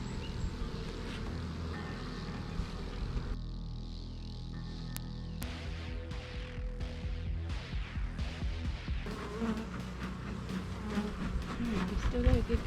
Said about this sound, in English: I've still got a good coverage of bees.